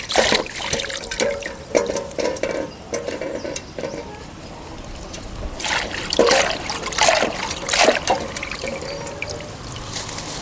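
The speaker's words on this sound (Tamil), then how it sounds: "நல்லா கீரையை சுத்தமாக அலாசிக்கணும்." Manathakkali greens are swished and rinsed in a vessel of water by hand, a close, continuous sloshing and trickling with splashy surges and occasional soft knocks against the container.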